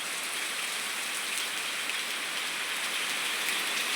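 Heavy monsoon rain pours steadily in Banaskantha, a dense, even hiss of downpour on surfaces with no voices and no letup.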